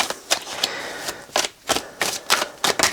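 Tarot cards being shuffled during a reading give quick, crisp riffling bursts, about eight sharp flutters in a few seconds, close and fairly loud with no voice.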